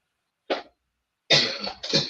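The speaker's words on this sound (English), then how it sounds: "this is the longest cough fit I've ever seen" A woman coughs in a fit: one sharp cough, a pause, then a longer run of harsh, throaty coughs close by.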